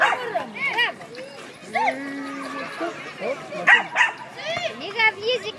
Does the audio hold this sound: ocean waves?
no